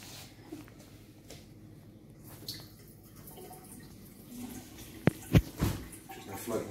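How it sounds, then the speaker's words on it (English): Water is poured out of a gold pan during a gold panning clean-out in Cornwall: a quiet stretch, then a few sharp splashes and trickles close by near the end. "Just pour some of this water out so you can see it better."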